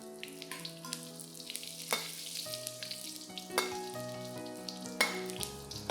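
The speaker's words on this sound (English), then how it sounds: "Stir fry this for about 30 seconds to a minute till the chilies turn brown" Sichuan peppers and dried chilies stir-fry in hot oil with a soft crackling sizzle, interrupted by a few sharp clinks of a utensil against the pan and ringing tonal hums.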